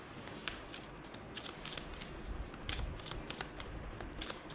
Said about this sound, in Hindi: हम यहाँ पर कुछ और कार्ड्स भी निकालेंगे।